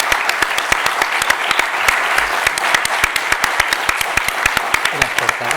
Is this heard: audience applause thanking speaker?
yes